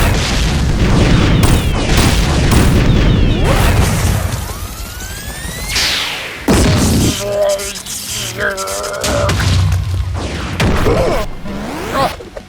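Animated pirate cannons fire in a cartoon battle with Captain Hook against Sonic, loud booms and whooshing projectiles mixed with music and character voices throughout.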